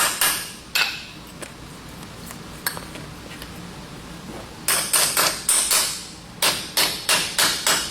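Hammer strikes on a copper rivet set into a horseshoe, sharp metallic taps in short clusters, a few scattered early then a rapid run of evenly spaced ringing blows near the end, close and fairly loud.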